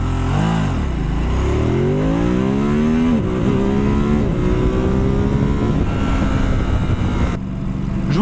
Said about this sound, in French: je vous propose un petit départ arrêté 0 à 100 en urban et en mode sport